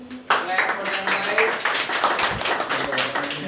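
An audience claps for guests at a classroom English role-play session, a dense burst of applause that starts sharply and continues under a speaking voice.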